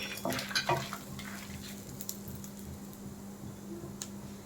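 Curry leaves and about twenty dried red chillies frying gently on low heat for curry leaf spice powder, a steady soft sizzle with a few brief stirring scrapes early on and no talk.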